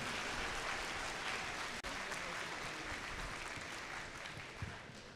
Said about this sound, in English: So students, please give them a huge round of applause.